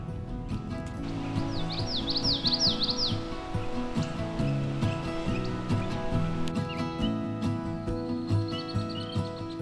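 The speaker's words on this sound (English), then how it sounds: "that was the call of the common yellowthroat" Common yellowthroat singing outdoors beside a pond near grasslands during warbler migration: a clear run of repeated rolling, high-pitched phrases early on, heard over steady low background hum, with faint chirps later.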